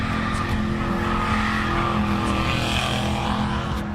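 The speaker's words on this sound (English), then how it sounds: "That's when the car rapidly accelerates." A car accelerates hard on a dark street, its engine a loud, continuous roar with tire noise across the whole stretch, close and dense.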